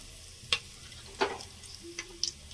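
Cinnamon and whole spices, cardamom among them, dropped into hot oil for mushroom biryani, giving a faint sizzle with a few sharp crackles and pops spaced about a second apart.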